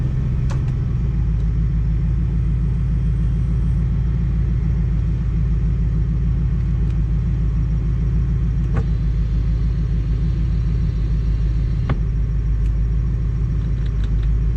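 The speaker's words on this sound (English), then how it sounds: "today we're going to go for a drive in my 1973, I'll say the infamous Triumph Stag." A 1973 Triumph Stag on a test drive, its engine humming in a loud, steady low rumble from inside the cabin, with faint ticks and clicks over the road noise.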